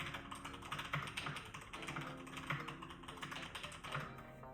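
Rapid, continuous clatter of typing on a computer keyboard, keys struck in quick irregular bursts, close and steady without speech.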